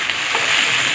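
Beans and green peas fry in a mix of oil and ghee, giving a loud, close, continuous sizzle that lasts the whole brief moment, with no voices.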